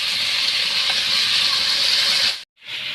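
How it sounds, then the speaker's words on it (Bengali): Lyata fish frying in hot oil gives a loud, close, even hiss that holds steady, then cuts out briefly before returning. "এই দেখুন ওটা ভাজা হচ্ছে"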